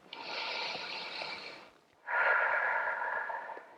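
Two long, deep breaths from a person pausing between yoga ab exercises: a steady inhale of about a second and a half, a short gap, then a stronger, louder breath, close and airy with no talking.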